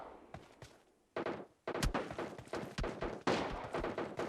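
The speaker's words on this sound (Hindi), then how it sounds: "कंटिन्यूअस फायरिंग की जा रही है।" Continuous gunfire in the PUBG Mobile video game during a tournament match, a run of repeated thudding shots at fairly even intervals after a short quieter opening, with no talking.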